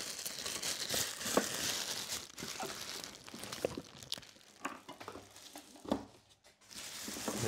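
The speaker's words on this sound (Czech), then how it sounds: "pěkně si to rozbalíme tak, jak by se mělo" Packaging of an AC Infinity Cloudforge T3 humidifier being unwrapped, with close, steady crinkling and rustling of plastic and cardboard, occasional sharper crunches and tearing, and no talk.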